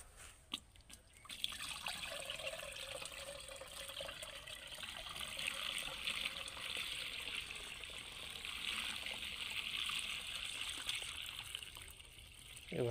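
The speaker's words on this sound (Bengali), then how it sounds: "এখন স্প্রে মেশিনে ঢেলে দেব।" Water splashes and trickles steadily into a pesticide spray machine tank, filled from a drain beside a potato field, heard faint and close with no talking.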